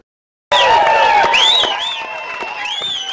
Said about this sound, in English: The crowd cheers as the bus rolls up for the middle-class Promise Gap Tour